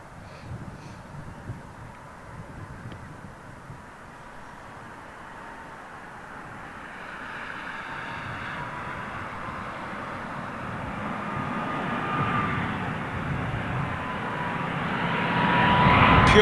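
A freighter jet at Heathrow roars from a distance, its rumble swelling steadily louder as it approaches, with occasional crow caws in the background.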